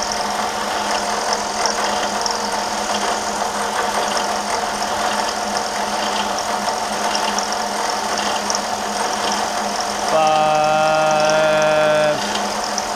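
Milling machine running steadily at about 700 RPM with a half-inch two-flute end mill, giving a loud continuous mechanical drone, joined near the end by a brief higher whining tone.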